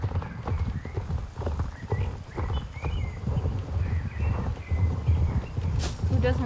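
Hooves of a magic horse in the Star Stable Online game clip-clop in a continuous, even walking rhythm up close, with a few soft game sounds and a brief bright tone near the end.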